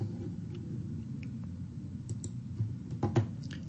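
Faint, sparse mouse clicks while configuring Zmanda Recovery Manager backup software, a few soft isolated taps over a low steady hum, with a small cluster of clicks near the end.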